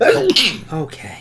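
A single close, forceful sneeze bursts out, followed by a short spoken word and brief breathy vocal sounds in a quiet indoor setting.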